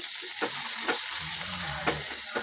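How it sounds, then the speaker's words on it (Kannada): Cluster bean curry frying in a pan with peanut powder and jaggery, a constant bright sizzle broken by a few rhythmic spatula scrapes, heard up close with no talking. "ಇವಾಗೆಲ್ಲ ಫ್ರೈ ಮಾಡ್ಕೊಳ್ಳೋಣ್ರಿ"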